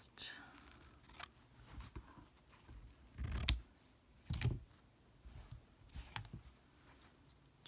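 Small scissors snip embroidery thread after stem stitching, a few soft, close clicks spread out among quiet handling sounds, with faint whispered talk in places.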